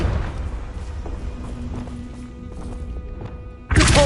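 In a Hogwarts video game, the Confringo spell is cast: a sudden loud blast bursts out near the end after a few seconds of quiet, murmuring ambience.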